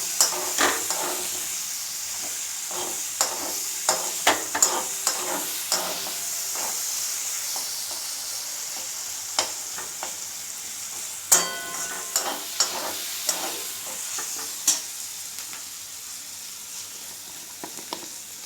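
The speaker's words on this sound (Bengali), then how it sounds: "এটা একটু সামান্য ব্রাউন করে ভেজে নেব।" Onions brown in hot oil in a pan for chicken kanti, with a continuous sizzle and repeated scraping clinks from a spoon stirring, close by and with no talking.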